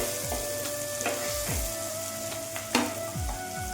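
Chopped green chilies sautéed in a pan for fish curry, a steady close sizzle broken by several swishing stirs and one sharper clack.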